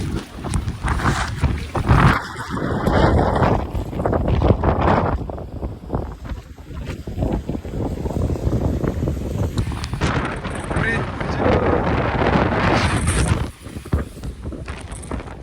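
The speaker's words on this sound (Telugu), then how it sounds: "గాలి మాత్రం ఘోరంగా ఉంది, ఏమి వినిపిస్తలేదు." Strong wind roars and buffets straight into the microphone near Dhanushkodi, a loud, constant rumbling blast that swells and dips throughout.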